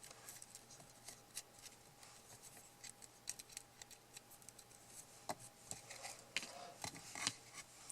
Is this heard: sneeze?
no